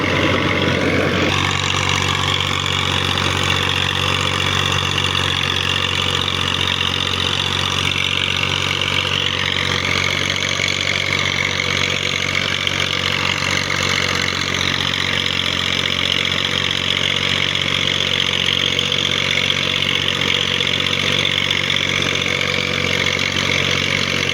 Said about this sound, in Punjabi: 16-1700 ਦੀ ਰੇਸ ਤੇ ਟਰੈਕਟਰ ਚੱਲ ਰਿਹਾ ਜੀ।